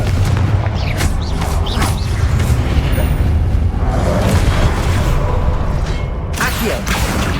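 A loud magical fire-spell explosion, Confringo, in the video game Hogwarts Legacy, set in a trial chamber of statues, blasts and rumbles with layered booms and crackling debris that continue over several seconds.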